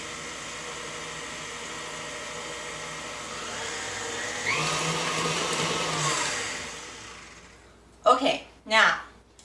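An electric mixer whirs steadily through gluten-free, top-8-allergen-free muffin batter made from cake mix, a continuous close drone that cuts off sharply, followed by two short bursts of talk.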